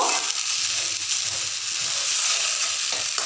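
Arum being stirred and fried in a pan over low heat, giving a steady, close sizzle with soft scraping from the stirring, continuous and alone with no voices.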